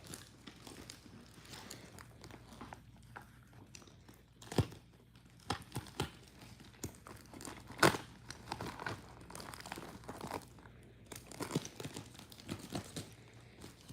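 A jam-packed padded envelope being cut and handled, quiet crinkling and rustling with scattered sharper crackles and snips, close by.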